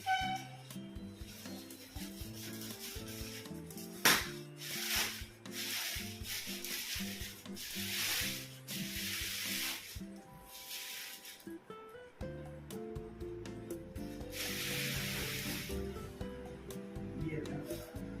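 A knife scrapes and slices through the cardboard and tape packaging of a 2.5-litre tilt-type wet grinder, a long run of steady rasping strokes with brief pauses, and someone talks over it.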